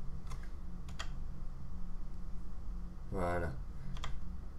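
Keys pressed on a SteelSeries Apex M800 gaming keyboard, a few scattered clicks followed by a short burst of rapid strokes, close up under a low hum, with a brief spoken word.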